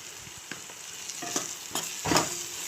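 A spoon stirs chicken and potato curry with garam masala and coriander powder in a pan, giving soft scraping and light sizzling with a few scattered clinks, quiet and close.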